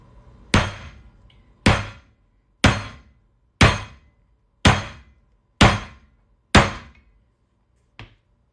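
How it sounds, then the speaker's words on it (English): A coconut is slammed down on a kitchen countertop eight times at a steady, roughly one-second beat, each impact a loud, hard thunk with a short decay; the final hit is lighter. "I'm really like banging this coconut down."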